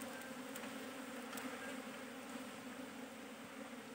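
Honey bees at a hive, a dense, faint, continuous buzzing hum with no speech, steady throughout, like a swarm settling around the hive box.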